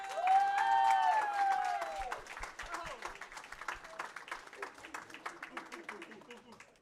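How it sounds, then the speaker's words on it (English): Applause from the audience at a high school esports championship trophy ceremony, honoring the second-place school. Sustained, dense clapping runs steadily throughout, with a brief voice or cheer rising near the start. "let's give a round of applause to Moanalua High School"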